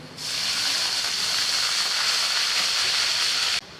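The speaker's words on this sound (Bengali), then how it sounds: "পেঁয়াজ ভাজাটা হয়ে গেছে, এখন পানি দিয়ে দেবো।" Water poured onto fried onions in a hot pan sets off a loud, steady sizzling hiss that starts abruptly, holds evenly for a few seconds, then cuts off.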